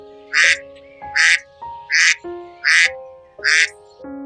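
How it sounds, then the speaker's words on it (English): A duck quacks five times in a steady, evenly spaced rhythm, each call loud, close and nasal, with brief quiet gaps between them and no other sounds. "their quacks and colorful plumage add charm to ponds and wetlands"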